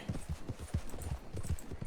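A horse's hooves clip-clop over rocks in a video game, a quick, steady run of close, fairly soft hoofbeats with nothing else over them.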